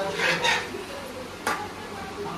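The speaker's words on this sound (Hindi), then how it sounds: "अब मैं चम्मच दूंगी तो आप इसको चलाना" A spoon stirs food in a pot at home during a cooking session with friends, with brief scraping bursts near the start and a sharper clink midway, under a constant low background.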